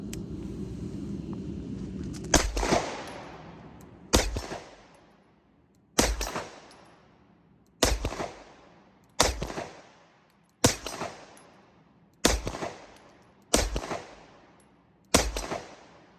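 Nine sharp Springfield Prodigy pistol shots at an outdoor range, spaced about two seconds apart, each loud crack trailing into a brief decay, following a stretch of low rumbling background noise.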